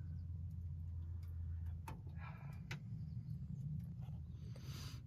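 Deep, steady idle rumble of a 360 V8 in a 1973 Ford F250 Custom 4x4 highboy pickup, low and constant throughout with faint ticking and light clicks above it, heard from a short distance.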